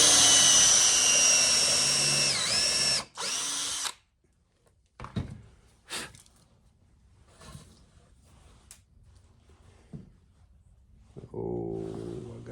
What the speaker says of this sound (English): Take a nice countersink bit.